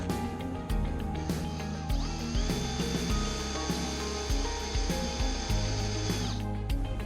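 Power drill boring through a snapped-off bolt, a loud, continuous grinding whine with shifting pitch and brief dips as pressure changes, close up with no talking.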